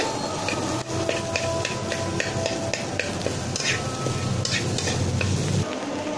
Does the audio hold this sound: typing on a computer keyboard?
no